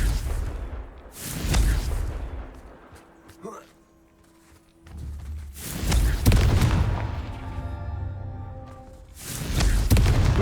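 Confringo blasting spell explosions in Hogwarts Legacy, a series of loud booming bursts in clusters with quieter gaps between them, close and forceful.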